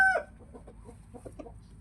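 A red-ringed fighting rooster gives a short sharp call followed by a few soft, close clucks, with no one talking.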